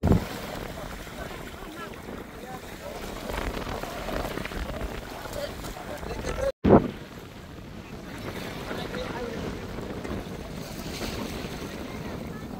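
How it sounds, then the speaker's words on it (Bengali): A trawler at sea off Dimer Char beach sends up a constant rushing wash of water and wind noise with a low steady rumble, broken by a brief cutout and a sharp bump midway. "এই যে হচ্ছে আমাদের ট্রলার।"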